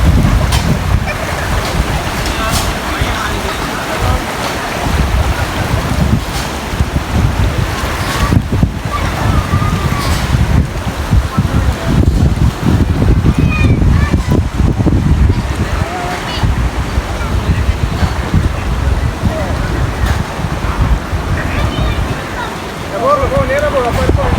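Floodwaters wash and crash steadily against a shore in Batticaloa, Sri Lanka, loud and close, with heavy wind buffeting the microphone throughout.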